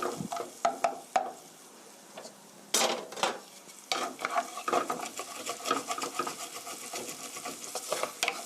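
Onion and garlic fry in a pan over medium heat for chicken spaghetti, with soft crackling sizzle broken by irregular clanks and scrapes of a utensil stirring against the pan, close and moderately loud.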